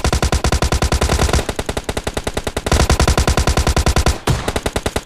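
Rapid automatic gunfire from a squad fight in the PUBG Lite video game rattles in dense, loud bursts with brief pauses between strings of shots.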